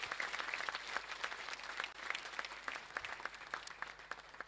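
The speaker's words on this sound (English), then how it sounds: "I think she deserves a huge round of applause for those academic results." An audience at a girls' college prize-giving day applauds a student's academic results, a sustained even clapping heard from some distance at moderate volume, with no talk.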